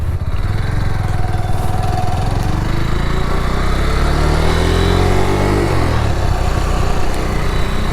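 A Kymco Spade 150 motorcycle with a 5-speed gearbox drones loudly while riding, its engine note rising then dipping sharply at a clean gear shift before pulling steadily again.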